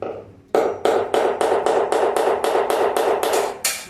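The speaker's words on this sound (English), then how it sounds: "just in the centre of the hole, hammer, lightly tap it" A hammer lightly tapping a masonry drill bit held on glazed kitchen tile to chip the glaze, a run of about eleven sharp, evenly spaced metallic taps, close and clear with no talk.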